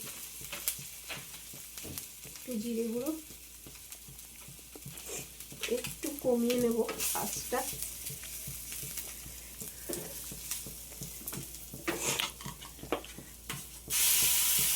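Ginger paste fries with a steady sizzle in a pan as it is stirred, with occasional scraping, while someone talks over it throughout.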